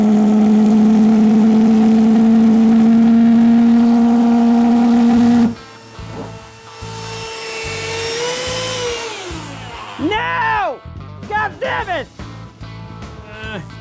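3D printed turbocharged pulsejet engine running loud and steady for several seconds, then cutting out into sputtering, uneven bursts and pops as it falters.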